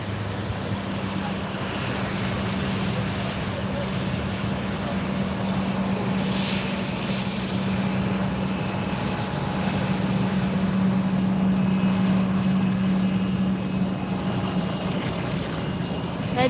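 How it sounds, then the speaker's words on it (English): A Western Air airliner taxis at Fort Lauderdale airport (FLL), giving a steady, fairly distant engine rumble with a sustained low hum that strengthens slightly toward the end. "we got a Western Air taxiing up here."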